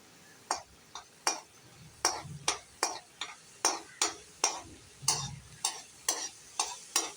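Whole garam masala spices crackling and being stirred in hot oil in a pan, a steady series of sharp, evenly spaced clicks and pops over a faint sizzle, close and fairly quiet.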